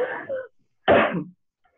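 Two short, harsh coughs close by, separated by a brief pause, then silence.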